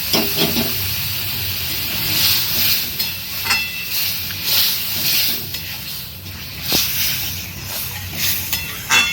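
Chana dal dropped into a hot pot sizzles with a loud, continuous steamy hiss, broken by occasional stirring scrapes, close up.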